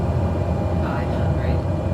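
A steady aircraft engine drone in Microsoft Flight Simulator 2020 on approach to an uphill runway, with a close voice talking over it.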